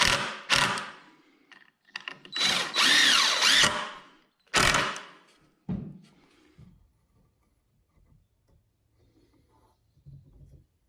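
A power drill drives fasteners to attach the sides of a wooden porch swing to its seat frame, in several loud, close bursts of whirring separated by pauses, then fading to quiet handling noises.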